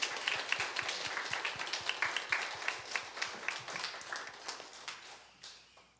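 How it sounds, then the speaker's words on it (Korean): A church congregation claps for the choir at a Sunday worship service, a dense steady patter of many hands that carries through and fades slightly toward the end, with no talk over it. "우리 글로리아 찬양대 우리 박수로 힘차게 격려하겠습니다."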